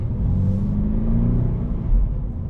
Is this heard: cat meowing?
no